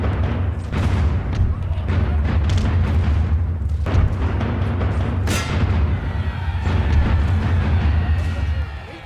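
Cannon and musket fire in Napoleon Total War, a dense rolling barrage of loud booms and sharp volleys, with several strong blasts standing out over continuous battlefield rumble and shouting.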